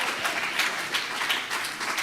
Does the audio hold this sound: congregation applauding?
yes